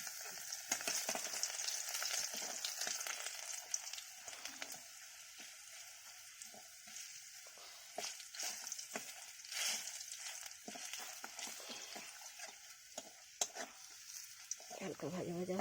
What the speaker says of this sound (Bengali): এবারে রসুন থেতো করা সেগুলো দিয়ে দিলাম